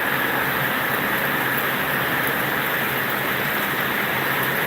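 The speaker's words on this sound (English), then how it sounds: "I think this might be the most intense rain I have ever seen in my own yard." Intense rain pours down on a suburban yard during a sudden storm, flooding the grass, a loud unbroken roaring hiss with no talk.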